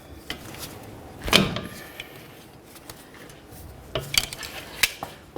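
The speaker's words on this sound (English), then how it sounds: "In between the two, there's going to be a jam nut. We need to go ahead and break this free." A wrench clanks and scrapes against a tie rod jam nut on a Ford Fusion, sharp metallic knocks breaking the quiet, first a single strong hit, then a cluster of clinks near the end.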